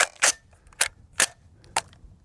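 Four sharp rifle shots ring out at targets from a SAP Taakmag R1 Para carbine, one per target, loud and close with short uneven gaps between them.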